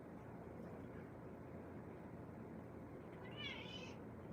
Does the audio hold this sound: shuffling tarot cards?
no